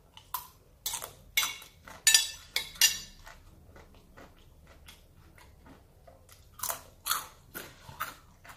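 Someone eating fried rice after a trip to a traditional market produces bursts of crisp crunching and clicking bites, with irregular spacing and quiet pauses between them, close to the microphone.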